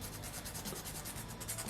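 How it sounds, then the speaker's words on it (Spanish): Sandpaper rubs against a small piece of an Allosaurus 3D model kit in quick, even back-and-forth strokes, close up and continuous, with no talking. "Acá también vamos a lijar otro poco."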